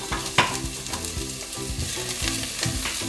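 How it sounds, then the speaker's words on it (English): Onion sizzles in a hot pan, a continuous crackling fry with occasional louder pops and stirring scrapes, close and moderately loud. "Careful, we need to stand back while it's sizzling."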